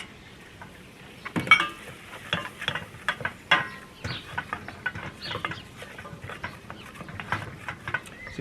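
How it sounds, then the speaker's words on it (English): Flour cooks in melted butter in a pan for a homemade mac and cheese roux, giving soft sizzling under a spoon scraping and stirring in irregular strokes, close up, with no talk. "I'm going to cook that out for 2 or 3 minutes so that it makes a roux."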